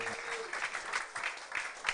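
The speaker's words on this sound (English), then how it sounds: "So let's keep clapping as well" Steady clapping from an audience at a live event, a dense continuous patter at moderate volume with music faintly underneath.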